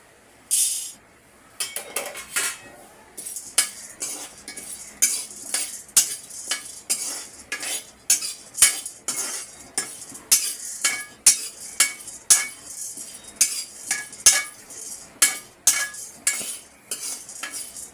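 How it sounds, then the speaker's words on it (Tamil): Roasted split chickpeas stirred in a pan for spice powder, a long run of brisk, close scraping and clinking strokes of a spoon against the metal, with no talking. "இப்போது உடச்ச கல்லையை போட்டு ஒரு திருப்பு திருப்பிக்கலாம்"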